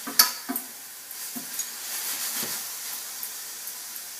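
Onion frying in a pot for borscht gives a soft, steady sizzle, with a few sharp clinks and stirring knocks near the start, then a quieter hiss continuing alone.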